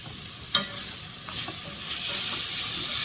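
Chicken sizzles and crackles steadily in a hot pan, with a sharp clink of a utensil early on, close and moderately loud.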